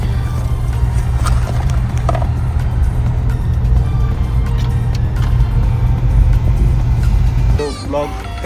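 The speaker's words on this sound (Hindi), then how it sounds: "गाड़ी में बैठ के अब निकलते हैं अपने घर की तरफ" A car pulls away from Kanpur airport, its engine and road rumble loud and steady inside the cabin for several seconds, dropping off near the end as scattered clatter and movement take over.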